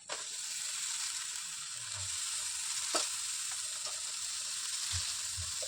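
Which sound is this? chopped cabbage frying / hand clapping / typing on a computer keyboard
chopped cabbage frying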